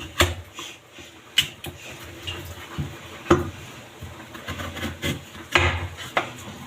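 A knife cuts through peeled taro on a board, giving sharp irregular chops and taps up close, with quiet rubbing and handling sounds in between.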